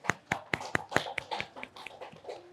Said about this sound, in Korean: 우리 박수 한번 해줄까요?